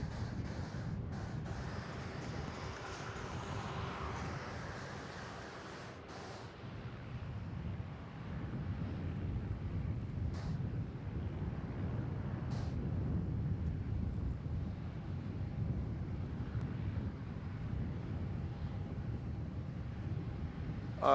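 Air India 309 airliner departing Melbourne Airport for Delhi, a distant, broad jet roar that builds and lingers for about twenty seconds, mixed with wind buffeting the microphone.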